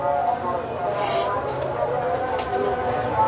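Pigeons at a racing pigeon loft in Lahore coo and flutter nearby, their soft calls mixed with rustling and other background sounds throughout.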